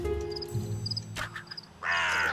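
A bird in a fairy-tale mystery puzzle game caws several times after being hit by a thrown stone, sharp close calls over a low musical background, ending in a louder burst.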